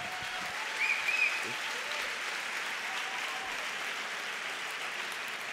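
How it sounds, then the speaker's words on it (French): Conference audience applauding at a plenary session, a steady dense wash of many hands clapping from start to finish, fairly even in loudness with a brief swell early on. "On peut l'applaudir."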